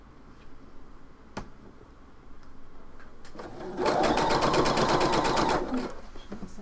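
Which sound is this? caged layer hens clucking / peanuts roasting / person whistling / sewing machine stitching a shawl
sewing machine stitching a shawl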